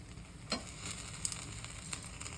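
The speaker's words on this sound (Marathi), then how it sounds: "आता हे काढून घेते खोबरं पटकन भाजतं।" Coconut roasts in a pan for a Maharashtrian black masala drumstick dish, a soft continuous crackle with a few light scraping stirs, faint and without voices.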